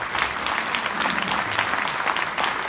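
A conference audience in Castelmaurou breaks into applause, a dense, steady wash of many hands clapping at close range, continuing evenly without speech.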